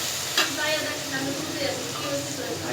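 Onions and salt frying in a pan for a village-style chicken curry, a dense steady sizzle with stirring scrapes and a sharp clack near the start.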